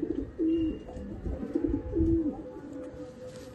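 Soft pigeon coos repeat a few times, low and murmuring, close by with quiet background and no talking.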